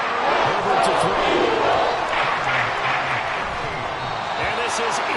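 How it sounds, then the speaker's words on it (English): A loud football stadium crowd roars continuously through a tense third-and-long play late in the game, the cheering dense and sustained with a commentator's voice faintly underneath. "This crowd turning up the decibel level"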